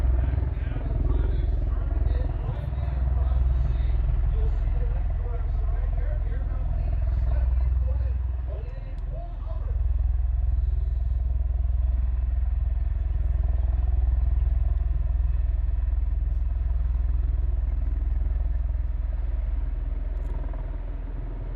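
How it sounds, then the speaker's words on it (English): Royal Air Force Red Arrows jet aircraft at the Thunder Over Michigan airshow give a steady, loud, low engine roar and rumble that holds throughout, with crowd chatter and talk faintly underneath. "Letting you guys listen in to the engine sounds."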